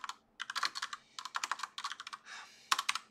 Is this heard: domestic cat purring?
no